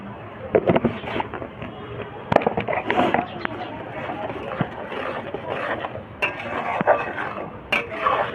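Onion and tomato being stirred and fried in a pan for a rohu fish curry, crackling sizzle with repeated scraping clicks of a spoon against the pan.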